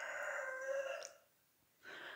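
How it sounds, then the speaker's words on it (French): A hoarse-voiced rooster crows once, loud and close, a harmonic call lasting about a second that trails off, then after a short pause a second crow begins. "C'est incroyable le bruit que fait ce coq."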